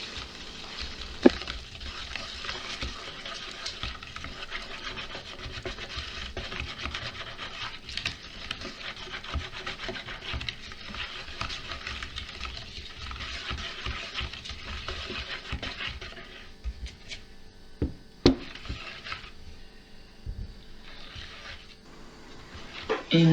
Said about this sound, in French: nous allons mélanger les ingrédients secs avec l'appareil à base de jaune d'œuf et de boisson végétale